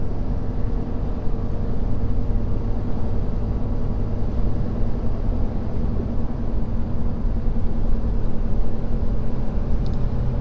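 Diesel pickup truck towing a heavy load up a hill, a steady loud low engine drone and road rumble heard from the cab, with no talk over it.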